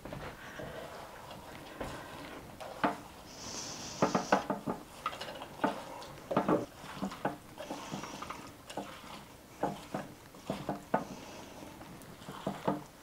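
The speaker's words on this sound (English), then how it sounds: "I'm going to go ahead and stir this just a little bit before I put that" A spoon scrapes and clinks against a crockpot, stirring taco potato casserole with cheese soup, in irregular soft knocks and squelches, fairly faint and close, with no voices.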